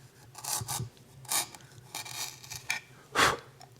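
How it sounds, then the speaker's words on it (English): A sharp chisel pares across wood end grain in a series of short, crisp rasping strokes, roughly six cuts at an uneven pace, close and fairly loud with no talk. "This is end grain that I'm going to chisel"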